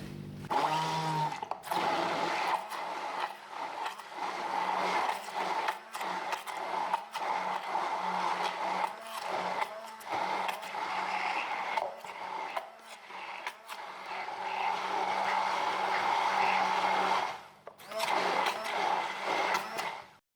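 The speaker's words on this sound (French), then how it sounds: "Avec le pied mixeur, je vais mixer ma crème jusqu'à ce qu'elle devienne bien crémeuse et onctueuse." An immersion blender whirs steadily while blending a garlic cream sauce for kebab made with apple cider vinegar, a continuous motor whine that shifts in pitch as it works and cuts off briefly near the end before resuming.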